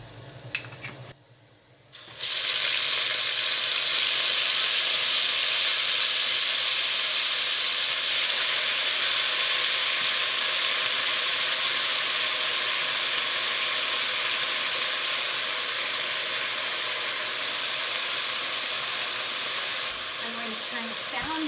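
Leeks drop into hot olive oil in a pan and burst into a loud, steady sizzle that holds evenly after a brief quiet start.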